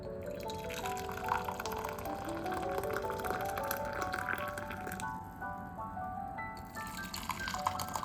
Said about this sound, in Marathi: आता जे पाणी आपलं केटलमध्ये गरम झालंय ते त्यात आपल्याला टाकायचं आहे